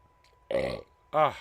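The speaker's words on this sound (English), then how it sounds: "I'm really apologizing for all the burping" Two loud, close burps from a man, one short and one deeper and fuller, separated by a brief quiet pause.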